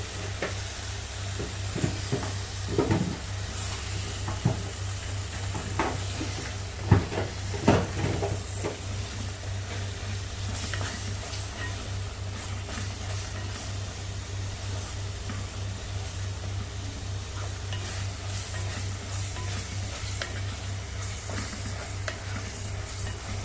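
Masala for a crab curry, coloured with Kashmiri chili, is stirred gently in a pan. A steady low sizzle of frying runs throughout, and a few soft scraping strokes stand out near the start.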